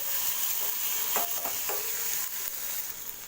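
Ginger and garlic sautéing in a pan for a pepper fish fry, a steady soft sizzle and hiss throughout with a few light stirring scrapes near the middle, no voices.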